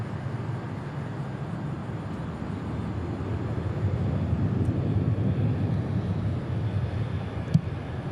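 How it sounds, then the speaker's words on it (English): A Cessna Caravan waits on the taxiway at DFW airport, its turboprop giving a steady, low rumbling drone that swells slightly midway, heard from a distance with no talking. "Cessna Caravan waiting to get into the Martin Air parking."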